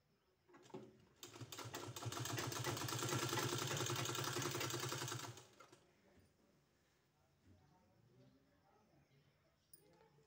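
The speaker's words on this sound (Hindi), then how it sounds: "इसके ऊपर हमको पूरे में इस तरह से सिलाई लगा देना है इस तरह से" A sewing machine stitches along fabric beside a collar margin, running steadily for about four seconds as one loud continuous mechanical burst, then stopping as quieter handling noises follow.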